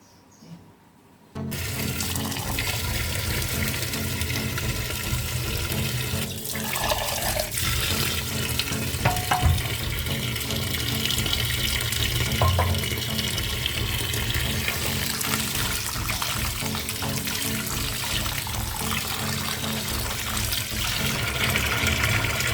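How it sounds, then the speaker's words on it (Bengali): Cold tap water runs steadily over cooked Maggi noodles being rinsed in a kitchen, a continuous close splashing stream that starts abruptly after a brief quiet moment and carries on without speech. "এই ঠান্ডা জলে ধুয়ে নেবে"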